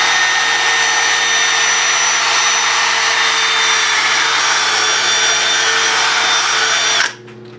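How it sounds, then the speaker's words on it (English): Drill spinning a polishing pad on a car headlight, a loud, steady high-pitched whine with a constant tone that holds for about seven seconds, then cuts off abruptly. "Literally just let the fucking drill do the work."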